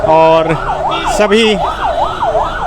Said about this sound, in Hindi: सायरन बजाती हुई गाड़ियां एक एक करके राजभवन के अंदर से निकल रही है